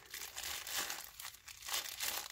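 Recycled plastic shrink wrap ball being shuffled into a bread bag, with close, loud crinkling and rustling in uneven bursts.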